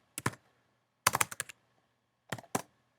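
Typing on a computer keyboard while writing a small program in the PHP interactive shell, three short bursts of close, crisp keystrokes separated by silent pauses.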